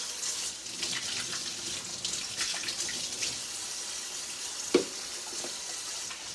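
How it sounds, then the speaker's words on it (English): A tap runs steadily into a sink during handwashing, a soft continuous hiss of water with a small knock partway through, no talking. "Let me wash my hands."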